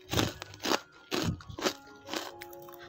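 Crunchy spicy-sweet kacang kribo peanut snack bitten and chewed up close, with five distinct loud crunching bursts spaced roughly half a second apart.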